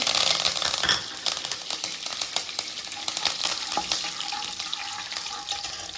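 Bay leaves drop into a hot pan of frying oil while cooking vangi bath, a spiced brinjal rice, giving a steady, close crackling sizzle with small stirring clatters and no voices.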